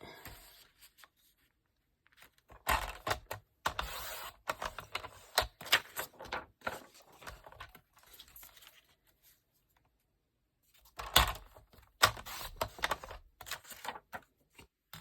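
Card stock being cut for a Mother's Day card: bursts of rapid, close scraping and snipping strokes separated by quiet pauses, with soft handling noises in between.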